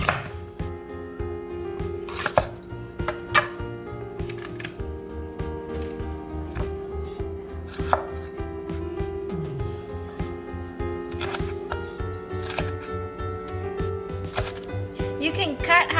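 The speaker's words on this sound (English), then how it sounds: "I'm going to wash these vegetables and basically just wash these and cut them in chunks" Vegetables cut into chunks for an Asian quick spaghetti, a series of sharp knife taps on a board at an uneven pace, close and clear over a steady low background hum.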